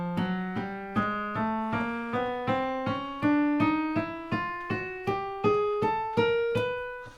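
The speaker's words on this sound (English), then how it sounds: "That would be playing every black key and white key on the piano," A piano plays a chromatic scale, striking each adjacent black and white key one after another in steady ascending half steps, each note clear and ringing alone with no talk.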